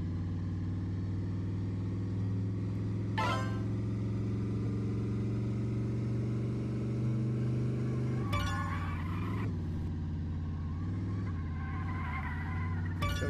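A Batmobile driven in a VR racing game on the Quest 2 gives a steady, loud low engine drone throughout, with brief bursts of higher noise and a shift in pitch partway through as it accelerates.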